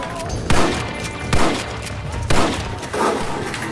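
Repeated gunfire in the Red Dead Redemption western video game, with loud bursts of overlapping shots about once a second over a steady background rumble.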